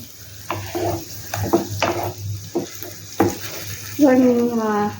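Egg malai masala ingredients being stirred in a pan over low-to-medium heat, a utensil scraping and knocking in bursts against a steady sizzle, ending with a louder, sustained frying hiss.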